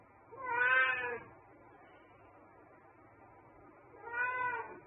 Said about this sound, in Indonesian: Kucing aku ngeong-ngeong itu lagi.